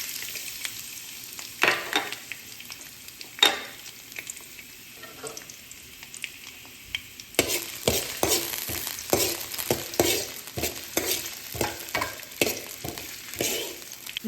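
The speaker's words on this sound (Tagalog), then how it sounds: "Painit na tayo ng mantika. Ilalagay natin yung bawang" Garlic hitting hot oil for shrimp aglio e olio: a quiet simmering hiss at first, then a louder burst of crackling sizzle with repeated stirring clatter up close, no voices.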